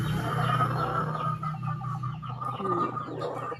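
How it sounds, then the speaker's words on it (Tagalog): Rooster and hen of a new bloodline clucking close by, a steady stream of low clucks and throaty calls with no pauses, fairly loud throughout. "Meet Papa Chicken and Mama Chicken."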